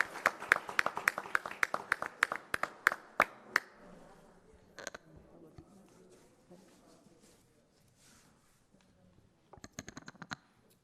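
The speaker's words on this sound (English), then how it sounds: "Let's give this class another round of applause." A few people clap for a class at a council meeting, sparse, sharp hand claps in an uneven rhythm for several seconds, then near silence before a brief scattered burst of claps returns.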